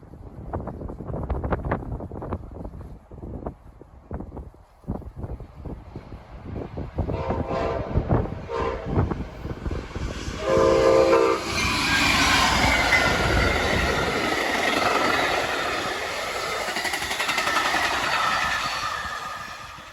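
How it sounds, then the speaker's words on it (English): An Amtrak passenger train led by a GE Genesis locomotive rolls past northbound: a deep engine rumble builds, the horn sounds, then loud wheel clatter and a long hissing roll with some wind buffeting on the microphone. "Amtrak 80 rolls northbound with a classic Genesis leading the way"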